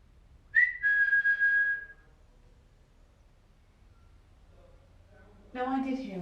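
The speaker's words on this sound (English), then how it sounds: "No, I did hear a whistle then." A clear whistled tone in a house's dining room, sustained for about a second, fairly loud, then quiet, followed by a brief burst of talking at the end.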